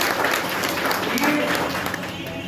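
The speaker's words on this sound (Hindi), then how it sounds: "एक बार ताली बजा" An indoor audience at a book launch event in Patna bursts into brief, dense hand clapping that stays loud for a couple of seconds, with voices mixed in.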